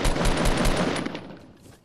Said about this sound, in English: This is my auto sniper